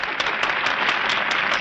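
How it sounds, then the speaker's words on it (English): Steady clapping from a crowd of hands, a dense continuous patter of applause lasting throughout at moderate volume. "Now he claps."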